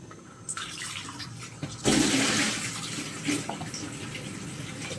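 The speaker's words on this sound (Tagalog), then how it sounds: "Ayan, kumukulo na." A pot of water for cooking glass noodles comes to a boil, a steady rushing, bubbling wash of water that swells partway through and carries on without any speech.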